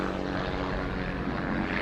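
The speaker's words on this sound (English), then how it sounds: "we'll have another pass here from the Hooligan Flight Team 3 planes" Three propeller planes of the Hooligan Flight Team, one of them a T-34, fly over a Fourth of July parade in Grandville in 2022 with a loud, continuous engine drone throughout.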